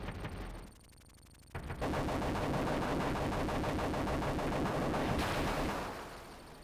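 Rapid gunfire from the Desert Strike helicopter game, dense bursts of loud shots rattling almost continuously after a brief lull, then tapering off near the end.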